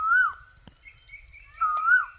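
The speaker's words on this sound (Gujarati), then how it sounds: "કોયલ પણ બોલે છે, કોયલની પણ મોજ દઈ દી." An Asian koel calls twice in a cotton field, clear rising whistled notes repeated about a second and a half apart, fairly near, with faint background chirps and no talking.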